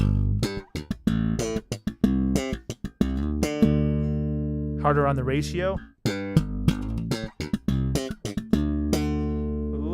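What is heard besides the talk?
bass through Joyo Scylla compressor, pumping sound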